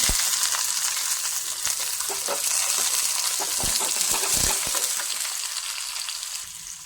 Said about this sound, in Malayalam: കടുകെല്ലാം പൊട്ടിക്കഴിയുമ്പോൾ അതിലേക്ക് ചെറിയ ഉള്ളി അരിഞ്ഞത് ഇട്ട് കൊടുക്കാം.